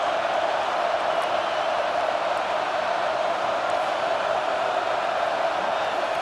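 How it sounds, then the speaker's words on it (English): A stadium crowd roars steadily in EA Sports College Football 25 as the defense holds in the red zone, a dense, continuous wash of cheering that fills the whole stretch at a constant level. "Now the crowd responding in the red zone, trying to help this defense"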